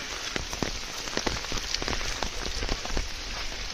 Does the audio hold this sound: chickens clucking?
no